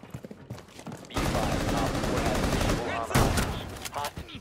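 Enemy gunfire in Rainbow Six Siege comes in two loud, sustained bursts of rapid automatic shots, with short gaps between them and faint bits of voice around the pauses.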